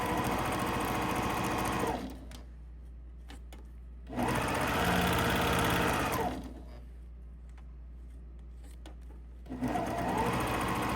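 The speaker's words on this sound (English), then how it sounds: "it's a mindless sewing right now" A sewing machine stitches a continuous zipper pouch in three loud, steady whirring bursts of about two seconds each, with quiet pauses between them.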